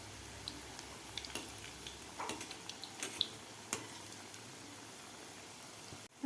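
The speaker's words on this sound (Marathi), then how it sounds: "गोल्डन कलर होईपर्यंत आपल्याला हे तळून घ्यायचे आहेत." Methi pakode frying in hot oil, a faint, steady sizzle with scattered soft pops and crackles, quiet and close with no talking.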